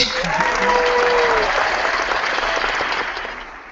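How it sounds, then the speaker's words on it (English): An audience claps loudly and steadily at a year-end review show, with a brief whoop near the start before the applause slowly tapers off. "where are the claps for that?"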